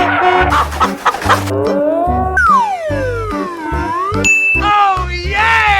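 Playful cartoon chicken clucks and squawks from a children's animated car and challenge game, loud and close, alongside sliding whistle-like tones, a chime and jingling music effects.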